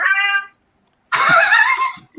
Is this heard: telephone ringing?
no